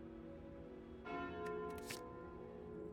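A bell relic chiming in the deckbuilding video game Slay the Spire, a bright metallic ring that swells about a second in over steady background music, followed by a few short sparkling accents.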